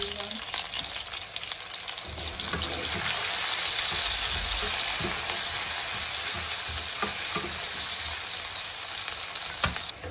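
Chopped onion, chilli and garlic sizzle loudly in hot oil in a pan, a dense steady frying hiss with occasional scrapes and knocks of stirring, close up and without talk.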